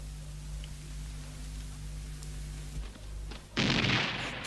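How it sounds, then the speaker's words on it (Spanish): Cannon fire in a Spanish radio drama set during Italian independence comes as a deep rumbling boom that swells suddenly after a low steady hum and stays heavy to the end. "Ha sido un cañonazo, ¿no?"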